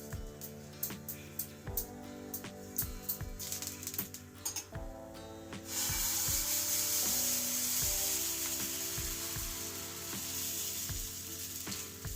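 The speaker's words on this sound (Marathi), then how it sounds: "त्याला भिड्याला ना कांद्याने किंवा केळीचा देठ असतो ना त्याने तेल लावून घ्यायचं।" An onion dipped in oil is rubbed across a hot griddle: sharp rhythmic ticks and scrapes at first, then a steady loud sizzle takes over and continues to the end.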